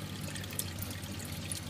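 Water dripping from an aquarium calcium reactor into the sump, heard as a soft, continuous trickle under steady pump hum, faint and close, with no talking.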